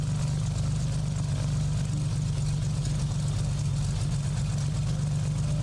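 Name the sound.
loud aircraft engine in a flight simulator game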